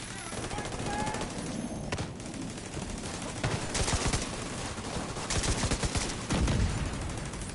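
Rapid automatic turret gunfire in the Division 2 video game, bursts of dense crackling shots repeating steadily at a moderate distance, with occasional louder volleys layered over the continuous firing.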